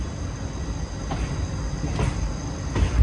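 Circar Express passenger train made of old ICF coaches cruising at around 110 km/h, a steady rumbling wheel-and-carriage roar with periodic clacks of the rail joints, heard from inside the coach with no talk.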